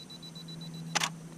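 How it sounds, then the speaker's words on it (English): A camera on a tripod counts down its self-timer with a string of faint, evenly spaced beeps, then fires a single crisp shutter click close by outdoors. "We're going to click the shutter."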